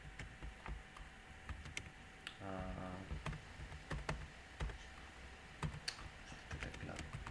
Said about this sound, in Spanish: Este teclado.